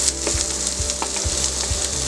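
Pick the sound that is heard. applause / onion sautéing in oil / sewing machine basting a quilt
onion sautéing in oil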